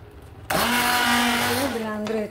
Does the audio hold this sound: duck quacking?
no